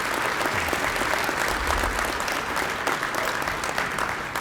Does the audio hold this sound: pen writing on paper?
no